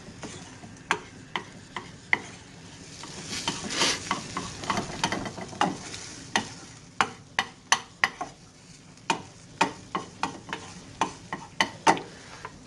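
Scrambled eggs cooking in a hot, greased pan, with a soft sizzle under a steady series of sharp utensil taps and scrapes against the pan, recurring roughly every half second to a second, close and fairly quiet, with no talking.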